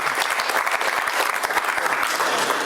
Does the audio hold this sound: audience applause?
yes